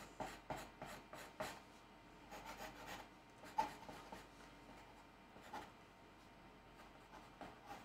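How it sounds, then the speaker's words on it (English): A stick of chalk rubbed against 60 grit sandpaper gives a series of faint, scratchy rasping strokes, quick at first and then sparser, close by and alone. "So I've got the 60 grit sandpaper here."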